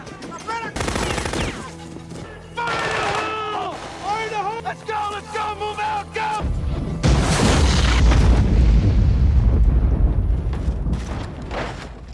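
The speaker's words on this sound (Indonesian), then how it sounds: "pasukan khusus segera meledakkan tempat tersebut" Explosions as special forces blow up a building after workers attack them: a deep, loud blast rumbles low and heavy for the last few seconds, preceded by a stretch of music-like tones and bursts of noise.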